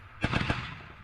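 Ukrainian soldiers firing at Russian positions in a quick burst of about three sharp gunshots, fairly distant, followed by a short fading echo.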